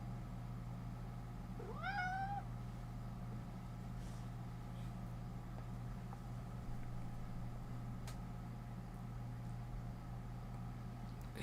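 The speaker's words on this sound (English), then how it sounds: "the second you take your hand off of him, then you hear another meow." A house cat gives a single rising meow early on, clear but not loud, over a steady low hum of indoor machinery that continues alone afterward.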